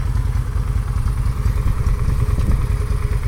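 A motorcycle ridden by a first-time rider runs with a steady, close, low engine rumble throughout, with a slight rhythmic thump and no talk over it.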